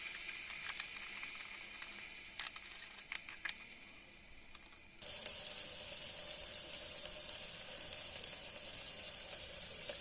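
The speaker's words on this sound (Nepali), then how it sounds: "अब मजाले मसलालाई फ्राई गर्नुपर्छ" Ground cumin, coriander and turmeric fry in a pan, starting as scattered clicks and light rattles, then a steady, bright sizzle sets in and continues evenly to the end.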